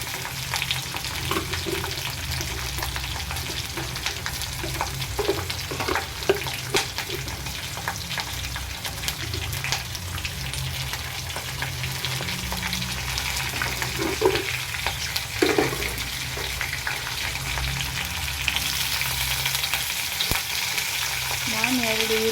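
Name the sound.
onions frying in a pan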